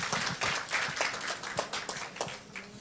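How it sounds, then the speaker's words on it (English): Audience applause at a vegan society anniversary celebration, a lively round of many hands clapping with distinct sharp claps standing out, steady and close before tapering slightly at the end. "Once again, a big round of applause."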